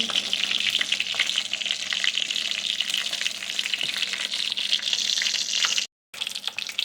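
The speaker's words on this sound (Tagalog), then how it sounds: "halu-haluin lang natin hanggang maging thicker ang sauce" Sweet and sour sauce stirred in a pan, a continuous close sizzling hiss with faint spoon scrapes, briefly cutting to silence before resuming.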